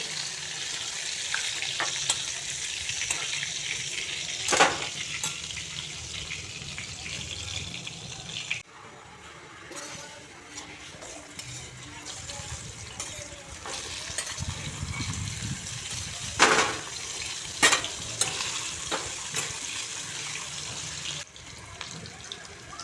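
Potatoes fry in a pan while cooking alongside cauliflower, with a continuous close sizzle and spatter broken by occasional sharp stirring scrapes and clinks.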